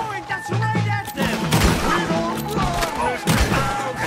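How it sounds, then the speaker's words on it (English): Volcanic pistol gunshots crack repeatedly in a Red Dead Redemption 2 shootout, with sharp bursts spread across a dense, chaotic firefight under shouting voices and other battle noise. "Ooh, bladder shot. Yeah, this volcanic pistol is fantastic."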